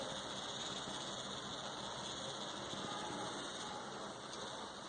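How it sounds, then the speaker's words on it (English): Small DC motor spinning as an exhaust fan in an industrial automation demo, a steady, faint continuous whir with a light rattle running throughout, no voices. "So you can see that the motor is also rotating."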